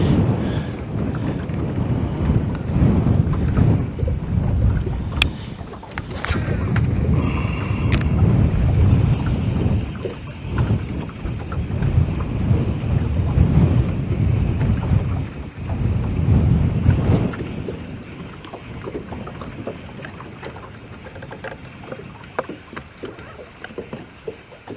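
Strong wind buffets the microphone in a boat out on a lake during fishing, a loud, continuous low roar with gusts rising and falling and occasional knocks and thumps from the boat.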